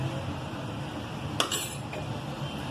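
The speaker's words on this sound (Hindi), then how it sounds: "इसे अच्छी तरह हिलाएंगे" Kheer with almonds, pistachios and ground coconut gets stirred in a pot, a metal spoon scraping and clinking against the side with one sharp knock amid a low background hiss.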